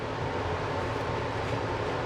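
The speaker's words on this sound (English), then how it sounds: "That humming noise you hear in the background, that's my air handling unit." An air handling unit hums steadily in a woodturning workshop, a dense, continuous broadband drone at low level with no change and no voices.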